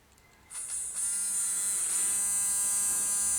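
A repaired central locking actuator on a Mazda 5 sliding door buzzes into action after a brief quiet start, a close, steady high-pitched electric whir holding for the remaining few seconds.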